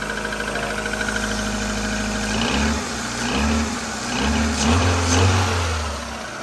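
A Rover Streetwise with a K-Series engine, started from ice cold, gets a few short, modest revs over a close, rough idle, the engine note rising and falling in quick blips.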